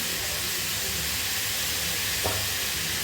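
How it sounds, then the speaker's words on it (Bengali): Salted turmeric potato pieces fry in hot oil in a pan with a constant close sizzle and hiss, and a single spatula scrape cuts through briefly, with no voices. "এগুলো এভাবে আমি নেড়ে চেড়ে ভেজে নিচ্ছি"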